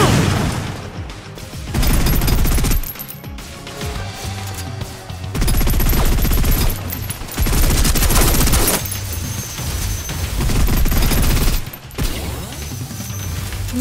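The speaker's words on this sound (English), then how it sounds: "Suppressive fire." Bursts of suppressive gunfire from the video game Snowbreak: Containment Zone come in loud, dense volleys separated by short pauses, rattling and booming close by.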